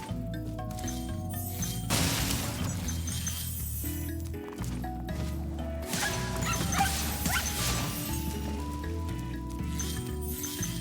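Bulldog-like dogs in the Spyro video game bark and yip repeatedly over the game's music and clattering effects, loud and close.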